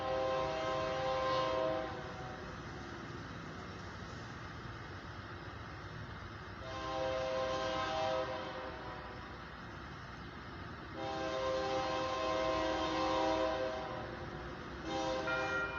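An approaching eastbound CFE grain and mixed freight train on a rainy afternoon sounds three long, loud horn blasts separated by gaps, over a continuous rumbling roar.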